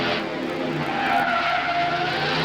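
Truck tires skidding through a reverse spin stunt at a 1965 Tournament of Thrills event, a sustained squeal over a continuous engine roar that stays steady and close for the full stretch.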